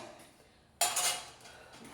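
Metal cutlery and dishes clatter in a home kitchen during cleaning, a sudden loud burst of clinking after a quiet stretch, then fading into softer rattles with no talking.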